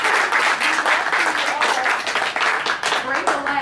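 A theater audience applauds first-time performers at a Gypsy Robe ceremony, steady dense clapping filling the room for several seconds with a few voices calling out over it.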